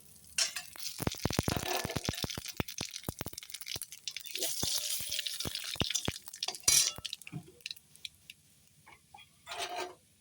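Dried chillies, bay leaves and radhuni crackle and sizzle in hot oil, with bursts of sharp popping early on, then a fainter, broken spitting that swells again briefly near the end.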